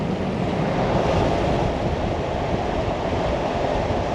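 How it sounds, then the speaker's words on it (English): Heavy rain pours outside on a road trip through the South Australian outback, a dense, continuous hiss and roar that holds at an even level throughout with no voices. "Absolutely bucketing down outside."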